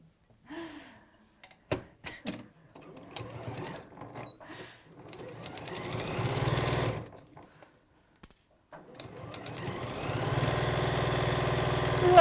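A sewing machine runs at speed in a stitching demonstration. Its whirring drone starts and stops in stretches, separated by clicks and handling noises.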